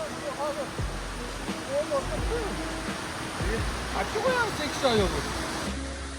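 Ismoy waterfall in Uzbekistan roars in a constant broad rush of falling water, with people talking over it throughout.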